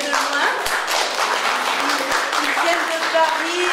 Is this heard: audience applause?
yes